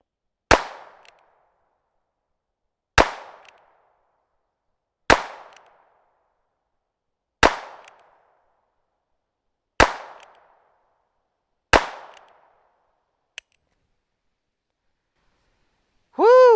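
Six loud revolver shots from Ruger Wrangler and Single-Six handguns crack out at a steady pace roughly two seconds apart, each with a short ringing tail, followed by a sharp small click and a brief tonal whoop at the end.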